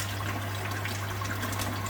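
Continuous rushing of water pouring into an angelfish breeding tank, steady and close, over a low constant hum.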